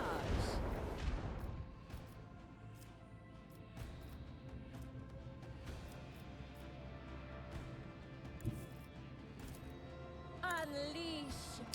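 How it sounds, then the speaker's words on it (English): Macro cannon barrage in the Warhammer 40,000 game Rogue Trader: a rolling series of distant booms and heavy impacts over a rumbling space-battle backdrop, with a voice speaking over the shots. "Initiate macro cannon barrage."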